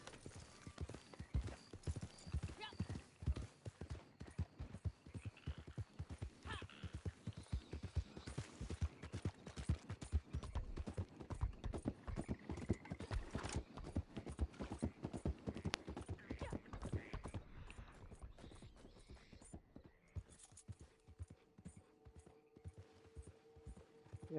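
Steady horse hooves clip-clop in a quick trotting rhythm in a video game, fairly close and prominent, easing off near the end.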